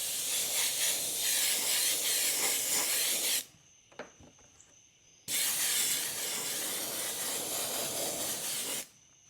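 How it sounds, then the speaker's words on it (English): Airbrush spraying opaque yellow Createx paint onto an RC crawler body, two long steady hissing bursts, close and loud, separated by a short pause with small clicks. "we're jumping right into yellow. Just regular old opaque Createx airbrush paint."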